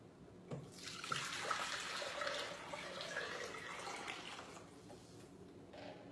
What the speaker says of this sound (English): Then I'm going to put 5 cups of water.